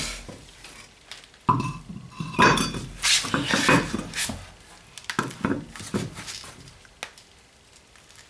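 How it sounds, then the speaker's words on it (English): A wheel rim is set back onto the hub of an Opel Corsa D during a brake disc job, giving a cluster of metallic clanks and scrapes that builds to a loud burst in the middle, then trails off into scattered knocks. "We can place the rim back on."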